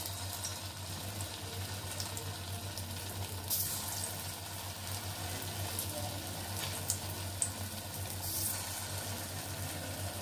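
Chhana (cottage cheese) balls for kofta sizzling in hot oil on lowered heat, a steady soft frying hiss with faint crackles and a couple of small clinks, no voices.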